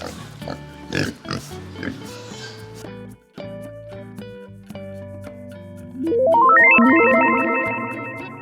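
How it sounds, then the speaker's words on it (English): A pig grunts and oinks in a few rough bursts near the start, then a bright electronic jingle rises and plays on to the end. "It is a pig."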